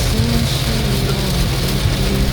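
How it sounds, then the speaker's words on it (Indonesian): Heavy rain during a thunderstorm with strong wind on Mount Merbabu in Indonesia's rainy season, a steady dense wash of noise with low rumbling underneath, loud and continuous throughout. "termasuk hujan lebat disertai petir dan angin kencang seperti yang sedang kami hadapi saat ini"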